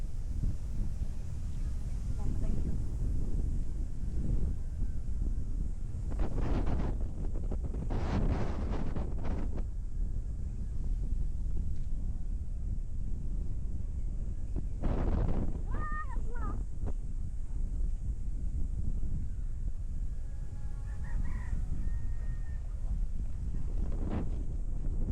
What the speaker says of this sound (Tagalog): Ay, ang sarap ng hangin.